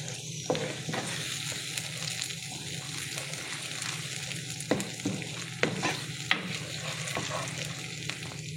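Tomato paste is stirred in a hot frying pan, a continuous sizzle with repeated scraping and clacking spoon strokes at close range and no talk.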